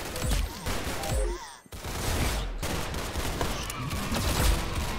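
Rapid, dense gunfire rattles from a Roblox first-person shooter game, loud and nearly continuous with a brief gap in the middle, then resuming in sustained bursts.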